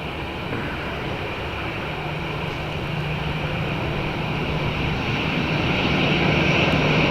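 An Aer Lingus airliner at Dublin Airport gives a steady, loud jet-engine roar that swells slightly toward the end, with no voices over it.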